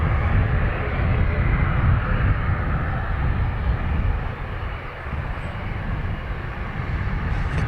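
A CASA C295 twin-turboprop at Dublin Airport rumbles steadily and loudly throughout, a continuous broadband engine roar that dips slightly midway before swelling again, with a voice faintly mixed in.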